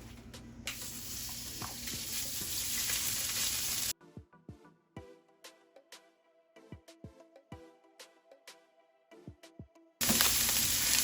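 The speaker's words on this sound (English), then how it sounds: "Alright, we're gonna start with the bacon." Bacon frying in a pan: a loud, dense sizzle at the start and end, with a quieter middle stretch of sharp pops and spatters crackling irregularly, close by.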